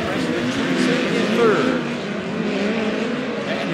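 Midget race cars roar around a dirt speedway at a POWRi league race, engine noise swelling as they pass and fading under a track announcer talking over the PA.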